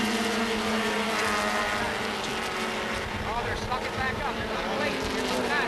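H Production sports racing cars roar around the track at the 1980 Runoffs, their engines droning and rising in pitch as they pass. An announcer commentates over the steady racing noise.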